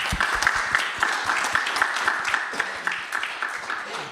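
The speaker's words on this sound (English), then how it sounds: "A round of applause." Audience applause at a panel discussion on saving lives in Sweden, many hands clapping together with some individual claps standing out, steady and fairly loud before it begins to thin toward the end.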